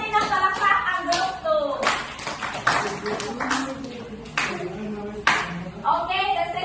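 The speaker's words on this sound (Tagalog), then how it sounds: "Bigyan natin ng palakpak ang group" Scattered hand clapping from a classroom group during a good-manners lesson, a few distinct claps over a murmur of voices and talk nearby, uneven rather than a full applause.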